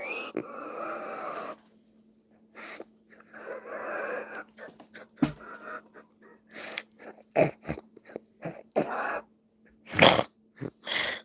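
A pet dog growls, wheezes and snorts in a string of short throaty vocal bursts separated by quiet gaps, close to the microphone, with a faint steady hum underneath.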